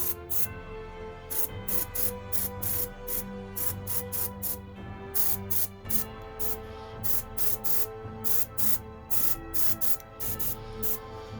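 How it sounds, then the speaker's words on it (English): A partly blocked airbrush sprays red paint onto a miniature with a steady hiss that sputters in quick, regular pulses, accompanied by a faint underlying tone. "my airbrush is blocked a little bit, so that's why it's making a funny noise"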